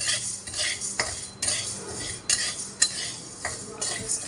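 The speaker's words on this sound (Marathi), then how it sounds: "हरभरा डाळ पण भाजून घ्यायची." Chana dal and grains are dry-roasted in a pan while a metal spoon stirs them, making repeated close scrapes and clinks against the pan with a light rustle and no talking.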